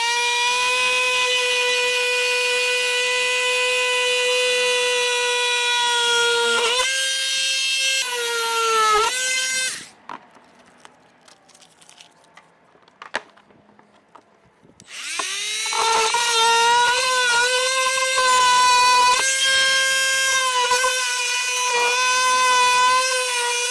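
An oscillating multi-tool buzzes steadily while cutting plastic for a base plate on a 2021 Jeep Wrangler Unlimited, loud and close, its pitch dropping under load, then stopping for several seconds before starting up again.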